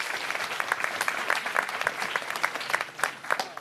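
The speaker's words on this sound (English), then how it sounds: "So please applaud your neighbors, applaud everyone who's here tonight for being a part of this." A town hall audience applauds, many hands clapping in a dense, steady patter that carries on at even loudness with no letup.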